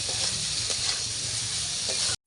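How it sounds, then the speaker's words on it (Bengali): Spices fry in a pan with cauliflower and potato, making a dense, even sizzle that runs close and loud without pause for about two seconds, then cuts off abruptly. "এবার ভেজে রাখা ফুলকপি আলু দিয়ে আরও পাঁচ মিনিট নাড়াচাড়া করে আমি ভেজে নেবো"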